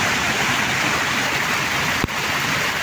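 Steady, dense rain from Typhoon Carina hisses continuously up close, with one brief sharp knock partway through.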